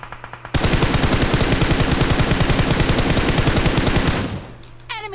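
An MG3 machine gun firing in PUBG Mobile: a loud, rapid, evenly pulsing sustained burst lasting several seconds, preceded by a few shots, then tapering off into quiet game sounds.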